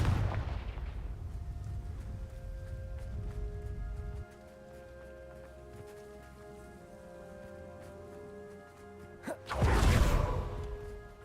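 Confringo fire-spell blasts in the Hogwarts Legacy video game, a burst of rumbling explosion at the start and another loud blast near the end, with quieter game ambience in between.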